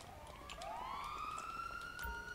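A police siren in the GTA 5 Online video game wails in a steady rising sweep, loud and close, with no voices over it.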